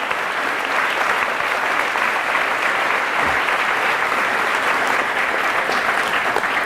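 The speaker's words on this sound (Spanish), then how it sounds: "Fuertes aplausos al Rey y Señor de señores." A church congregation breaks into strong, sustained applause for the Lord during a Catholic homily, dense steady clapping from a large crowd at an even level throughout.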